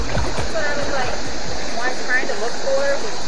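A river rushes and splashes steadily near a waterfall at Playa Venao, Panama, as a loud, continuous wash of flowing water with faint higher tones above it.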